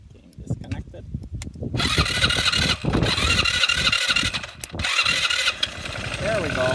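A 2014 Kandi go-kart buggy with a failed starter clicks and cranks through several short bursts, then its engine catches and runs on with a loud, steady idle, briefly cutting out and returning, close by.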